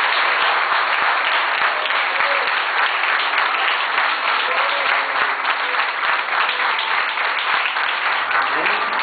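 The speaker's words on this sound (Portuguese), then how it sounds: "Vamos aplaudir ao Senhor Jesus?" A church congregation applauding for Jesus during a healing testimony service, a full, continuous round of many hands clapping that holds steady throughout.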